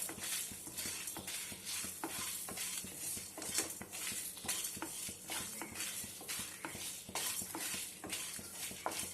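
Dried red chillies roast in a pan for a spicy prawn ghee roast, heard as a busy run of close scraping and stirring strokes with light clinks of the spoon against metal and a faint sizzle underneath.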